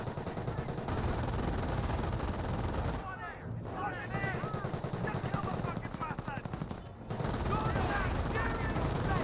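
Dense gunfire in the World War II strategy game Company of Heroes, with machine gun and rifle fire near continuous and loud throughout, a voice talking over the battle, and a short lull partway through.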